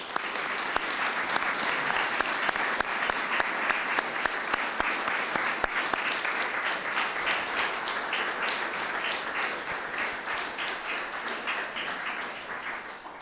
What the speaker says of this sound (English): And let's applaud our three new Dioscuri group leaders.